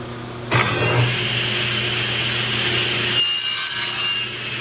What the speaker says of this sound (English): you can certainly just nibble away with the table saw like I'm going to show you now